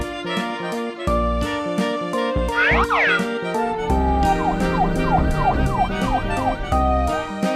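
A toy police car siren wails in a musical children's song, its rising and falling tones sweeping over a steady upbeat instrumental backing with a bouncy sound effect partway through.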